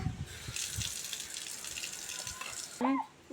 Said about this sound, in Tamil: கழுவு கை கழுவு